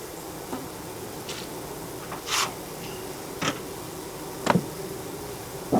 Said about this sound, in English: Oh, hello, bees.